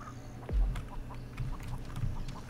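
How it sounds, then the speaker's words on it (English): A chicken clucks in short, soft, scattered bursts amid quiet ambient game sound in Texas Chain Saw Massacre, with a low thud near the start. "I was like, I hear a chicken."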